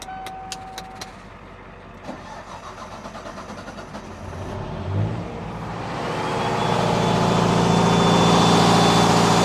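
A rescue truck's diesel engine starts and runs at idle nearby, with a few faint clicks early on and the engine growing steadily louder toward the end, alone without talk.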